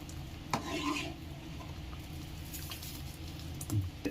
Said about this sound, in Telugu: ఇదంతా దగ్గరికి వచ్చే వరకు మొత్తం కలుపుకుంటూ ఉండాలి